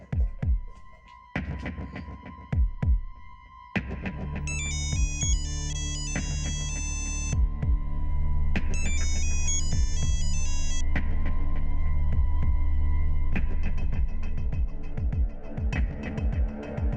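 A phone ringtone plays loudly and repeatedly, a bright electronic melody in bursts over a steady low hum, with occasional soft clicks.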